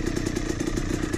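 A Yamaha YZ250 two-stroke dirt bike on a hard enduro trail, its engine running in a rapid, steady pulsing buzz, close and loud with no talk.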